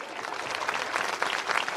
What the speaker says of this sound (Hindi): तालियां बजाओ ढंग से।